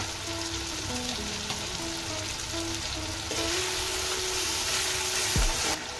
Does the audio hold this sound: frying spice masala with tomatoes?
yes